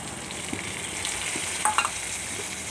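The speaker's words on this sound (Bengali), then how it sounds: "টমেটোটা দিয়ে এবার নাড়তে থাকি।" Tomato tipped into a hot pan of lightly fried onion for semolina upma, giving a steady close sizzle with a few soft stirring scrapes and clicks from the spoon.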